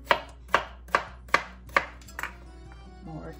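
A knife chops green melon and cantaloupe on a cutting board for a layered fruit salad: five crisp, evenly paced chops, close and distinct, then a couple of lighter taps and soft handling noise.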